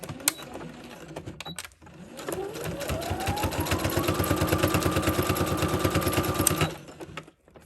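A sewing machine stitches a zipper in one steady run of rapid, even needle clatter, with the motor pitch rising as it speeds up, then stopping; a few faint clicks come before and after.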